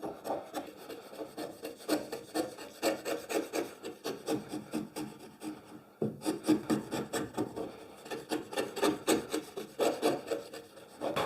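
Hand-guided chisel paring across wood to fit a joint, giving a steady run of short rasping scrapes in quick rhythm, close and fairly loud, with a brief pause midway and no talking.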